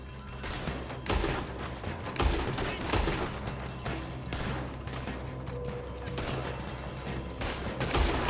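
A Red Dead Redemption 2 shootout, dense rapid gunfire cracking continuously at close range, overlapping shots with heavy low thumps throughout.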